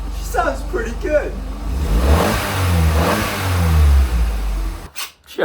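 A Vauxhall Corsa hot hatch track car engine revs up in a couple of rising bursts, loud and close, with someone speaking briefly at the start.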